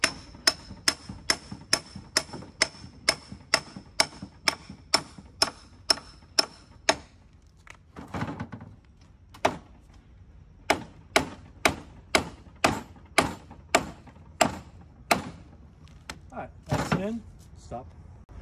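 A 2-pound hammer drives rebar into a half-inch hole in the ground in steady, rapid blows, pausing briefly midway before resuming another long run of sharp, ringing hits, close by.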